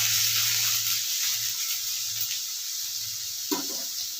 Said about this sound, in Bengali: এবার আমি দিচ্ছি এর মধ্যে পেঁয়াজ, একটু নাড়াচাড়া করবো।